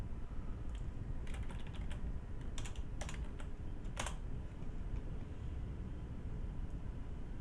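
Computer keyboard typing while filling in an online housing registration form, a few scattered clusters of keystrokes over a steady low background hum, fairly faint and without talk.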